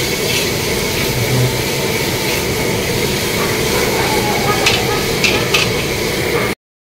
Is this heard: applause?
no